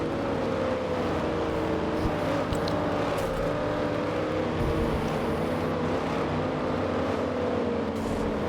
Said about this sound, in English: There they go. Pace car pulls off.